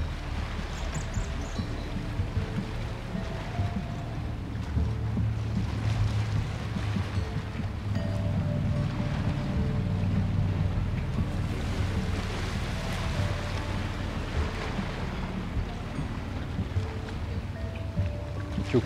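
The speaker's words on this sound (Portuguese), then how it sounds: "Escuta o mar, a natureza." Sea waves roll and wash continuously, a broad, steady surging rush with gentle swells in loudness and wind blowing across the microphone, with no voices present.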